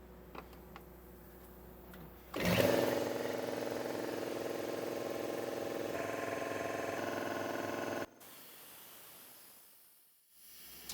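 An air compressor in a woodshop kicks on with a sharp start and runs steadily for several seconds, a loud droning motor with a hissing edge as pressure builds in the tank, then stops abruptly, leaving a fading hiss.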